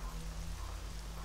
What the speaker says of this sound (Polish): Ja pierdzielę, że deszcz pada.